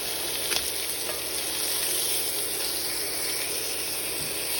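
Steady, dense sizzle of a pork chop frying in a pan, a continuous close hiss with faint crackles and a few soft utensil clicks, no talking.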